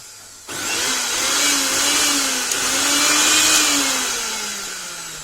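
A mixer grinder motor starts abruptly after half a second and then runs as a loud, steady, high-pitched whine whose pitch drifts slightly, with no talking.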